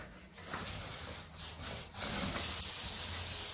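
Paint roller pressed tight into an interior wall corner, a continuous soft rubbing and swishing across the surface with brief pauses between strokes, close and quiet.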